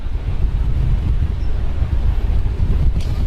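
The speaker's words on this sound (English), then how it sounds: "Now we're getting very strong gusts." Strong wind gusts from a cyclone at Bowen roar in a dense, continuous low rumble with buffeting on the microphone, loud and close, with no speech.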